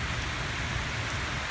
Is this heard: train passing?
no